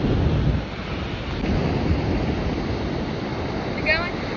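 Steady wind gusts buffet the microphone on a beach, a constant broadband rush with surf noise beneath and a brief faint chirp near the end.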